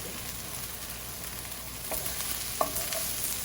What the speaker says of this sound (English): Now we add the dry spices.